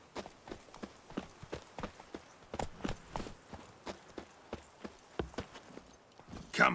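Roach, the horse in The Witcher 3, clip-clops along at a steady walking gait, each hoofbeat a sharp, close knock in an even rhythm with no voices over it.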